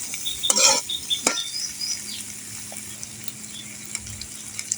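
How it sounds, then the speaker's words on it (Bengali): Onion, green chili, garlic and goat meat fry in a pan, a soft sizzle underneath sharp clinks and scrapes of a metal spoon stirring against the pot, with a louder clatter near the start. "পেঁয়াজ, কাঁচা মরিচ, রসুন একটু ভালোভাবে ভেজে নিব।"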